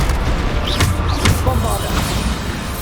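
Blasting spell explosions in the Hogwarts Legacy game, a dense run of booming impacts and rumble that fills the clip, with faint voice sounds in the mix.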